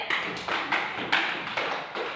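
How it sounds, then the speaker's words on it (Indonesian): Schoolchildren in a classroom clap for a student group in a patterned rhythm, about five unison bursts of clapping spaced evenly and heard fairly faintly. "Tepuk tangan untuk kelompok apel."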